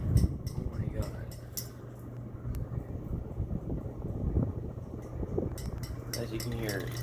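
A 52-inch CEC Hugger ceiling fan running on high speed with a rattling globe, giving a steady whooshing drone with a low hum and faint rattles while a person talks over it.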